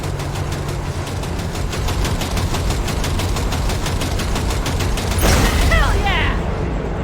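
Rapid bursts of gunfire aimed at a train coupler in Cyberpunk 2077, regular repeating shots over a steady engine rumble, with a louder burst near the end.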